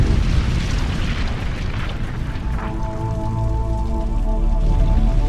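A nuclear explosion effect, a loud sustained roar and rumble that fades into a lingering low resonant tone with ringing overtones, heard alone without speech.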